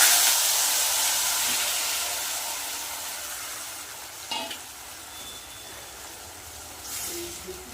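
Hilsa fish coated in mustard, poppy seed and yogurt frying in hot mustard oil, a steady loud sizzle that gradually settles, with a couple of brief utensil clinks near the end.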